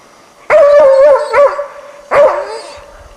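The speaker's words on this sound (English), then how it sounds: "A good dog has a strong, ringing bark it carries well" Two loud, ringing barks from a sable-hunting dog in the Siberian taiga in autumn, the first drawn out with a howling edge, the second shorter after a brief pause.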